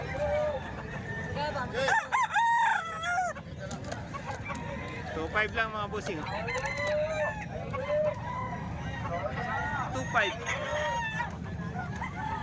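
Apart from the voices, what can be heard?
roosters crowing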